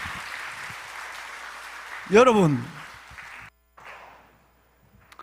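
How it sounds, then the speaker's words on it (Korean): A church congregation applauds during a Sunday worship service, a sustained soft wash of clapping under a brief spoken word, then it stops abruptly before quiet. "정답입니다. 박수 한번 해주세요."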